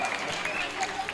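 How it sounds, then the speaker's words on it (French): A crowd claps at a children's Christmas event in Goma, giving a brief burst of dense, steady applause with voices mixed into the noise. "Applaudissons, applaudissons."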